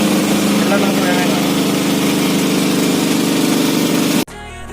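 A small vehicle engine, likely an autorickshaw, idles steadily and close by at loud volume with a constant buzzing drone, then cuts off abruptly near the end.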